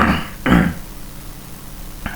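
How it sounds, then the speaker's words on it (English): A short throat clearing, two quick rasping bursts close to the mic, then a faint third catch after a pause. "Sorry, I've got to clear my throat"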